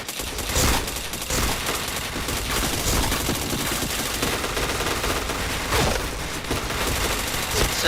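Rapid bursts of gunfire from a PUBG match, dense and continuous across the whole stretch with repeated loud volleys, booming shots mixed with game ambience.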